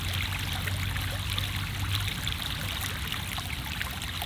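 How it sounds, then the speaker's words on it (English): Water of the Cheonggyecheon stream in Seoul flows and trickles in a steady, continuous rush, close and even, with a low city hum beneath. "Nothing but the water sound, and then a little bit of a hum from the city"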